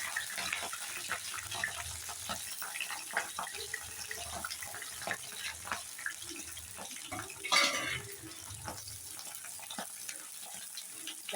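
Ingredients for pachadi sizzling in hot oil in a pan, a continuous crackling hiss with scattered pops and a brief louder burst partway through, close and fairly soft.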